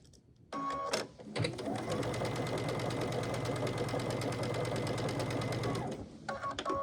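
A sewing machine runs steadily for about five seconds, stitching diagonally across pre-cut quilt strips, a close, even mechanical whir that starts and stops sharply, with brief handling sounds before and after.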